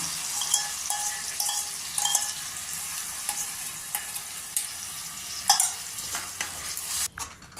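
Spice paste goes into hot oil in a pan for milky malai paneer, giving a steady close sizzle of frying with scraping spoon strokes and occasional clinks as it is stirred, no voices.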